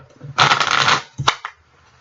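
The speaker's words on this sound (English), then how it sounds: "let me just give these little cards one quick shuffle before I start" A quick riffle of tarot cards being shuffled, a single short burst followed by a couple of soft taps, close by.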